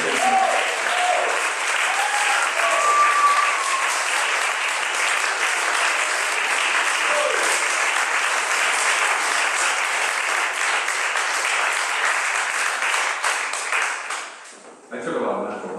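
An audience at a poetry reading by Remi Kanazi gives sustained, dense applause for about fourteen seconds, with a few voices calling out near the start. The clapping breaks off briefly near the end, then resumes.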